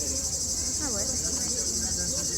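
Cicadas singing in a dense, continuous high buzz that stays loud and steady throughout, with a brief murmur of a voice underneath.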